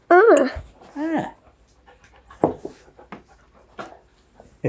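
A dog nearby gives high whimpering whines at first, then short, quick panting breaths recur in separate bursts, fairly close.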